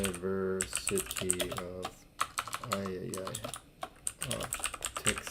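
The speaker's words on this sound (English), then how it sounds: "you just click and you can type in" Rapid keystrokes on a computer keyboard clatter in short bursts while a person talks over them.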